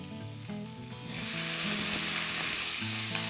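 Onions sizzling in a frying pan, a faint hiss at first that swells into a loud, steady broadband sizzle after about a second, close up, with low tonal background sounds underneath.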